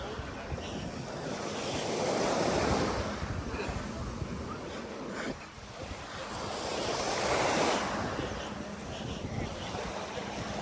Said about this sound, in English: I'm right on the beach.